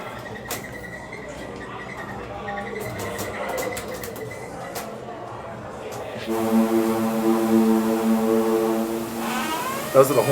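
The Carnival Conquest cruise ship sounds its horns at sailaway, a loud, deep sustained blast with stacked harmonics that starts partway in and holds to the end, following a stretch of clattering deck noise and faint background voices.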